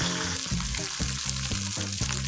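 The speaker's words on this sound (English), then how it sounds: "Fry them on medium flame till golden brown." Arancini rice balls fry in hot oil over a medium flame, a steady close sizzle with faint bubbling crackle running throughout, quiet and without any voices.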